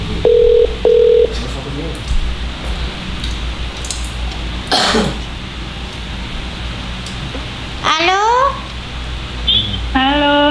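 A telephone call is dialled, opening with two short, clear keypad tones over a steady background hum. Coughs, rustling and chirping electronic tones follow.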